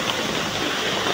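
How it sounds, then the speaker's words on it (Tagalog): Heavy rain pouring down in a steady, dense hiss with no breaks, loud and close, with no voices over it. "Lumakas na naman ang ulan, oh, di ba?"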